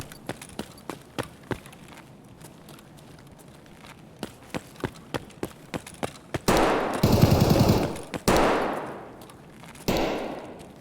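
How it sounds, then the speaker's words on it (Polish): In the video game Escape from Tarkov, rapid sharp gunshots crack from a distance in quick single reports, then give way to louder, sustained automatic bursts in the second half. "już się tam strzelają, widzę"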